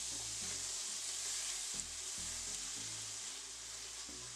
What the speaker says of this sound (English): Now I am adding 2 cups of chopped onions